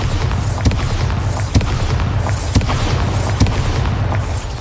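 Bombarda spell explosions in Hogwarts Legacy go off in a rapid series of heavy booms, about one each second, over a dense, loud rumbling game soundscape.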